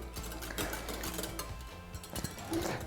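Chia seeds being stirred into almond milk in a mixing bowl, a steady, close whisking or stirring rhythm with soft repeated taps against the bowl.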